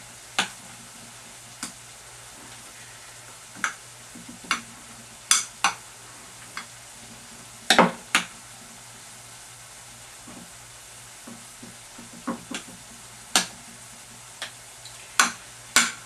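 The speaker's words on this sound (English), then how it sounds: "Okay, our beef is just finishing up. It's browning up." Ground beef browns in a pan: scattered sharp pops and crackles, some in quick clusters, rise over a quiet background hiss, with no voices.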